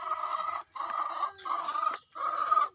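Chickens cluck close by in four quick bursts separated by brief pauses, the clucking busy and fairly loud.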